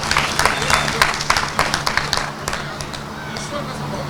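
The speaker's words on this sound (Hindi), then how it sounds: "एक बार जरा तालियों का घनत्व आप जरा बढ़ा दें" An audience at a local public gathering breaks into applause, a burst of quick clapping that is loud at first and then fades into lighter scattered claps and crowd noise.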